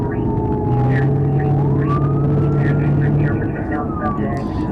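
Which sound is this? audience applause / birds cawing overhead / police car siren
police car siren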